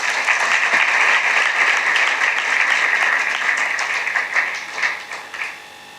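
Audience applause at a Christian talk event in Odisha, a dense steady clapping crowd that holds loud for several seconds and then thins out into scattered claps near the end.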